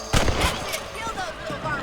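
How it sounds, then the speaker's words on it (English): Rifle shots at rabbits in Red Dead Redemption, two sharp close cracks in quick succession near the start, then a fading rumbling echo over game ambience. "Better shoot rabbits than outlaws, I think."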